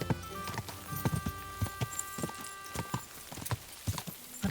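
Hooves of a horse in Kingdom Come: Deliverance II drum in a steady, fast clip-clop rhythm, close and fairly loud, with a faint tonal hum from the game running underneath.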